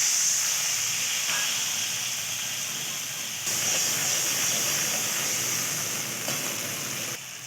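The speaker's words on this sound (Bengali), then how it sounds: "এরপর এতে একটু জল দিয়ে দেবো।" Water poured into a hot pan of green chillies gives a loud, steady sizzling hiss that holds for several seconds with slight surges, with no voices over it.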